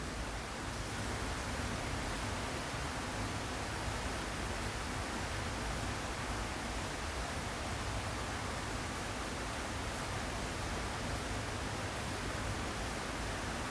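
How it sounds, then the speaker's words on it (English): Gentle rain falling outside a window, a steady soft broadband hiss that holds evenly throughout with no talking over it. "the gentle rain which is now falling outside my window"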